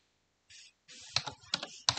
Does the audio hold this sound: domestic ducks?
no